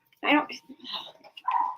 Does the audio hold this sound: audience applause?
no